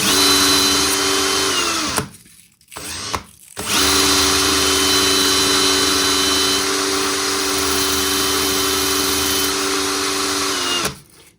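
A power drill spins sandpaper against a Tamiya touring car RC wheel, a loud steady whine that runs continuously, stops briefly twice near the two-second mark, then resumes and holds until cutting off at the end.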